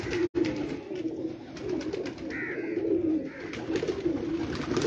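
Pigeons coo softly on a rooftop loft, low rolling calls repeating over steady background noise, with a brief dropout near the start and no talking.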